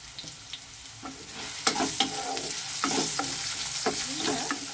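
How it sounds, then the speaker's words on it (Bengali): Diced potatoes, lightly salted, fry in a pan of oil for a radish dish while a spatula stirs them. A steady close sizzle runs throughout, broken by sharp scraping strokes about once a second. "আলুটা আমার হালকা হালকা ভাজা হয়েছে, নরম হয়েছে।"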